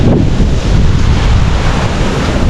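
Typhoon Uwan roars with strong, constant wind and crashing waves, a loud, dense rush of noise that blasts the microphone without letup.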